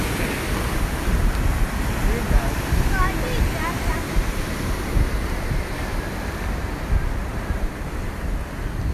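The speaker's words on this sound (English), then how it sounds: "Wow, the waves are pretty big." Big ocean surf at Daytona Beach rolls in a constant roar of breaking waves, mixed with heavy wind buffeting the microphone.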